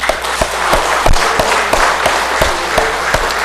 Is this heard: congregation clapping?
yes